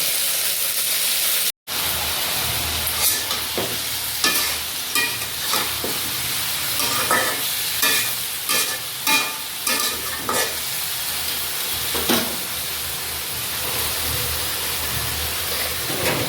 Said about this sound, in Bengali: মাছ ভাজি হয়ে গেছে, এবার নামিয়ে নেব।